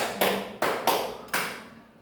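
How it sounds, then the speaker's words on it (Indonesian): A quick series of sharp hand claps in a classroom, close and moderately quiet, with uneven gaps between them. "Yang terakhir tepuk 5 kali."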